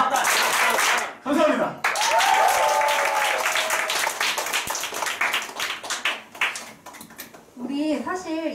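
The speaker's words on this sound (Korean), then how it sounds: "다시 박수 3번 치면서 마무리하겠습니다." A seminar audience claps together in a sustained burst of applause, with a voice speaking before it and again as it fades.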